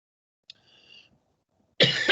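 A person coughs close by: a small throat sound and faint breathy noise come first, then one loud, harsh cough burst at the end.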